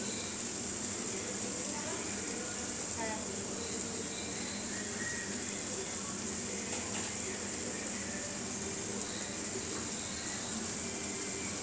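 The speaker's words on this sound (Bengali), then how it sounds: "এবার শুকনো লঙ্কা বাটা দিয়ে একটু নেড়ে চেড়ে লো ফ্লেমে ঢাকা দিয়ে কুক করে নেব" Dried red chili paste cooks in a pan on low flame for a rohu fish in poppy seed dish, giving a steady, even sizzle that runs unbroken throughout.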